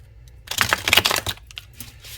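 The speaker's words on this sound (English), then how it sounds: "I love how these shuffle." A deck of tarot cards with yellow-coloured edges is shuffled by hand, giving a brief, close burst of crisp papery riffling followed by a few softer card taps.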